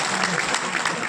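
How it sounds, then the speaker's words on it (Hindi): Audience clapping at a chief minister's speech to rural doctors in a hall, a dense, steady burst of applause from a crowd, brief and fairly loud. "तो ताली तो बजाओ।"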